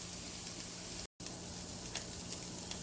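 Red onion sizzling in a pan, a faint steady hiss and crackle that runs on with a brief cut-out partway through, no speech.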